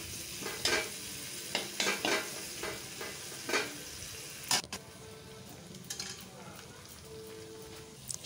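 Raisins and cashews frying in a pan for fried rice, with scattered clinks of a spoon stirring against the pan over a soft, steady sizzle, close by and fairly quiet.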